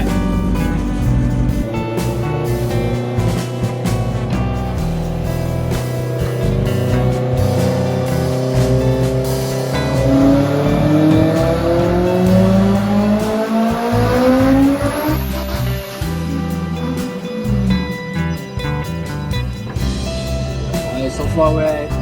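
A turbocharged Toyota MR2 runs on a dyno at about 22 to 23 psi of boost. The engine's loud, continuous roar climbs steadily in pitch through a full-throttle pull.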